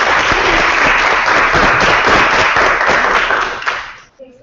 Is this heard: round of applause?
yes